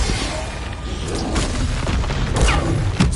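Confringo spell explosions in the video game Hogwarts Legacy, a few booming blasts over a dense, noisy backdrop of combat effects.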